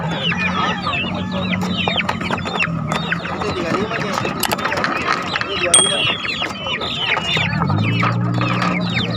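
Chicks and chickens at the Daya chicken market in Makassar cheep and cluck densely and continuously at close range, with a voice talking over the birds at the start and again near the end.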